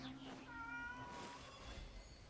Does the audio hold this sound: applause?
no